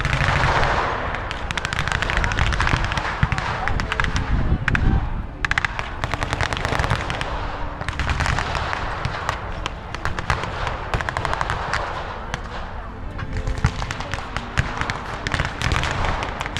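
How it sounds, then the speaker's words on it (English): At an outdoor military battle reenactment with a German half-track and tank, dense gunfire crackles in rapid bursts mixed with booming artillery blasts, loud and continuous for the whole stretch with no talk. "So many artillery shells are landing."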